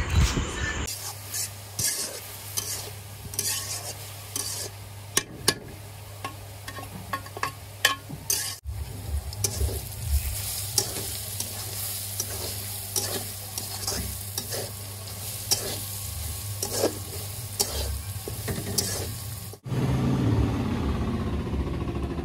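Bottle gourd fries in a pan with a steady low sizzle, broken by repeated scraping and stirring clatters from a spatula, nearby and moderately loud throughout.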